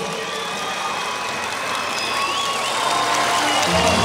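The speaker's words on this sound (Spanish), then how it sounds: "Venga nuevamente el aplauso para Enrique Jiménez Martínez." Crowd applause and cheering fill the stands at a charro competition in a lienzo charro at the Zacatecas congress, a steady, dense clapping that swells slightly toward the end, with some engine idling beneath.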